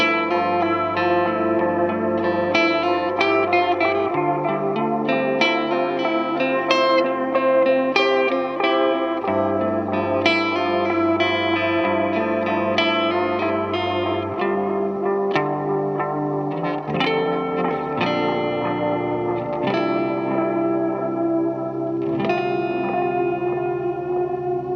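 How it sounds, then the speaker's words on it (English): Electric guitar through a Strymon El Capistan tape echo pedal, sustained chords and notes with trailing repeats, chorus-like wobble and reverb wash, played continuously and alone without talk. "Do I love the Strymon El Capistan? Yeah, I do."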